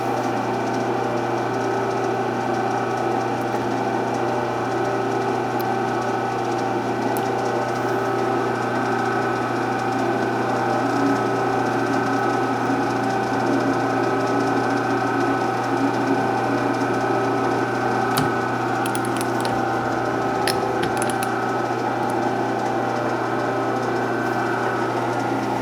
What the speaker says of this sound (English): Now I'm going to take a spring pass right there and see where we are in the threads